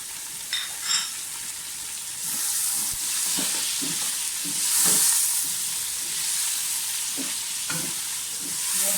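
Mutton pieces frying in a pot with onion, garlic and green chillies, a loud continuous sizzle and hiss with repeated stirring scrapes and clatters throughout, close and unvoiced.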